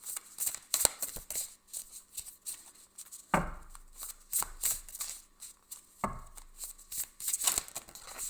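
Tarot cards are shuffled and handled up close in a quiet room, with crisp riffles and a few sharp card slaps and taps scattered irregularly.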